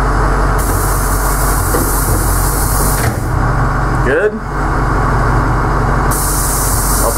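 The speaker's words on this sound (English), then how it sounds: "forgot to test the air door" A bus air door hisses sharply as it is opened and, a few seconds later, hisses again as it closes. The bus engine idles loudly throughout, and someone speaks briefly.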